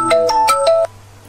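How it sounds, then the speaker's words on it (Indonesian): A mobile phone rings for an incoming call, a loud, clear melodic ringtone of four quick tones that then cuts off abruptly. "malah ditelepon coba"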